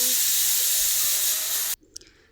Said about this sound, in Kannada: ಇಲ್ಲಿ 2 ವಿಷಲ್ ಕುಕ್ಕರ್ ಹೊಡೆಯೋದು